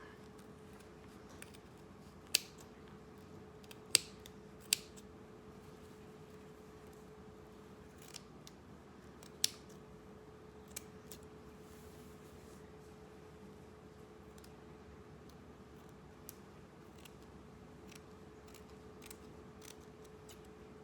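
Scissors snip off excess fabric while a two-piece bikini is being sewn, giving a handful of faint, sparse clicks spread across a quiet room with a low steady hum beneath.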